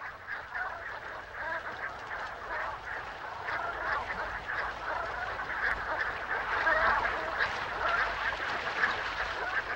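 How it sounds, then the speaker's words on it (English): A dense flock of brant geese stopping over on a sheltered southern Alaska coast, many calls overlapping into a continuous, noisy chatter of honks with no voices. "thousands of waterfowl, such as these brant geese, stop over at sheltered coastal areas of southern Alaska"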